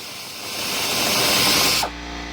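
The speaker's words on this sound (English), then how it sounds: "The next step is to remove 4 screws from the front timing belt cover" A power tool whirs close and loud as it backs screws out of the front timing belt cover on a 1988 Toyota MR2, one sustained burst building to a peak and then cutting off abruptly.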